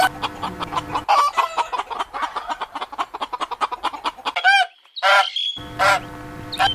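Chicken clucking and fowl calls, a series of repeated short clucks followed by a few louder, rising squawks near the end, close and clear with no talking.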